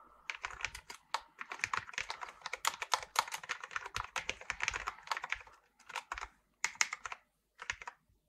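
Rapid bursts of keystrokes on a computer keyboard as code is typed, close and crisp, in uneven runs with brief pauses and no talking.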